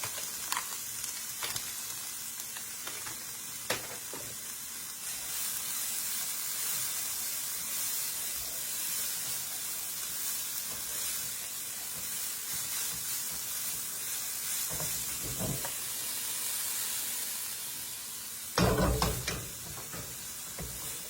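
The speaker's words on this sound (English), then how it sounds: "we're going to put our steamable cauliflower rice into our onion and our butter" Steamable cauliflower rice frying with onion in butter for chicken fried rice, a continuous close, loud sizzle and hiss with a few stirring scrapes and a sharp clatter near the end.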